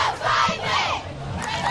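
A crowd of cheerleaders shouting and cheering together at the Philadelphia Columbus Day Parade, loud and close, a brief sustained burst of massed voices outdoors.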